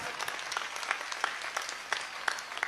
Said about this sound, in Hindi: आपकी तालियां कम थी, आपका संकल्प छोटा था।